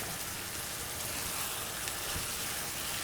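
Ground beef sizzling and browning in a pan for an empanada filling, a steady, dense crackle of frying fat that runs continuously and fairly quietly with no talk.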